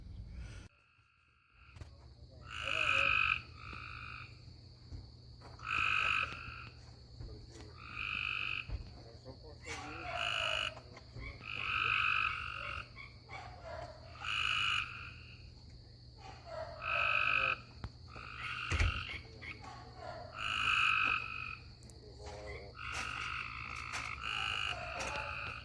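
Frogs croak loudly and close by in repeated bursts of raspy calls, with short pauses between them, against a quiet outdoor background with faint insect sounds.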